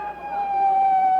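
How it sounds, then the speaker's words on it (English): An ambulance siren sounds outside the Washington Hilton after the assassination attempt on President Reagan, a steady sustained wailing tone, fairly near and alone for a brief moment. "The ambulance is pulled up in front of the Hilton here."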